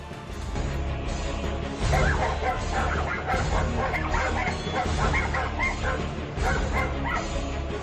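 A pack of stray dogs bark and yip excitedly in quick overlapping bursts while attacking a child, loud and close, with whimpering mixed in throughout.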